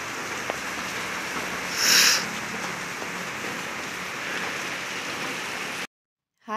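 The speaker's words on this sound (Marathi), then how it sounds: "कालपासून असाच पाऊस चालू आहे." Steady winter rain falling outdoors, a continuous even hiss of drops on surfaces, close and moderately loud throughout, with one brief brighter swell partway through before it cuts off abruptly near the end.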